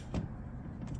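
A rebuilt Suzuki RM 125 two-stroke dirt bike engine clunks into gear: one dull, close knock early on, followed by a low mechanical rumble and a faint second rattle near the end.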